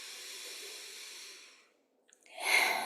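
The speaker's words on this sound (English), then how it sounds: "I invite you to take in a deep inhalation," A slow, deep breath drawn in during meditation, a soft airy hiss that fades into a short silence before a brighter breath sound rises again, close and quiet.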